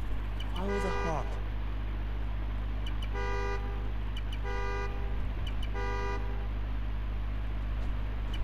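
A car horn triggered by a key fob in the Spider-Man: Miles Morales video game sounds in three evenly spaced bursts of quick repeated toots after an earlier sweeping tone, over a steady low hum.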